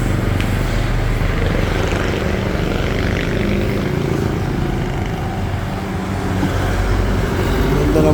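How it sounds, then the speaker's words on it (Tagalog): A motorcycle engine hums steadily and loudly while riding on a mountain trail, a continuous close drone with wind noise and no breaks. "Ganda ng motor ni Sir, oh."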